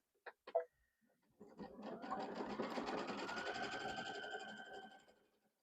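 A sewing machine stitches quilt pieces together. A couple of quiet clicks come first, then a steady fast mechanical whir runs for about three seconds close up before winding down, with no talk.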